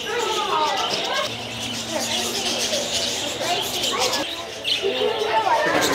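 Caged birds chirp and coo in an aviary at Gatorland, heard steadily beneath a busy layer of nearby voices and crowd chatter.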